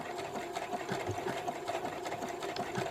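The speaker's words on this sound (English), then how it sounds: "my machine, as you can see, goes back and forth to create this blanket stitch" A sewing machine works slowly back and forth on fabric to sew a blanket stitch, making a steady mechanical whirring with rhythmic needle pulses, close and moderately loud.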